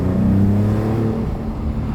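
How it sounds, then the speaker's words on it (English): A Maserati GranTurismo Trofeo drives along with its turbocharged engine humming steadily at mid-range from inside the cabin, a sustained tonal drone with faint whirring turbo character and no speech. "A lot of turbo noises."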